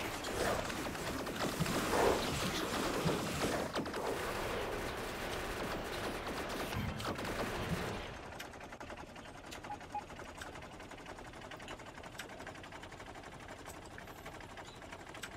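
Rapid mechanical gunfire from piercing ammo in the game Factorio, a dense steady rattle for the first eight seconds, then fading to quieter scattered clicks.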